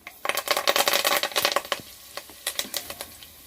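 Fenugreek and fennel seeds spluttering in hot sesame oil, a dense burst of sharp crackling pops that thins out into scattered spits, close and loud with no talking.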